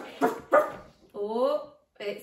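A dog bark in a children's song, given as a voice imitation: two short yapping barks, then a longer rising whine and another bark, close and clear.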